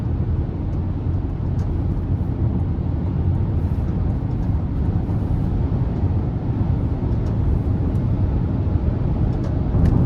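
Steady low road and tire rumble inside a 2025 Chevy Equinox ACTIV with a 1.5 turbo engine cruising on the highway, a constant even drone with no talking.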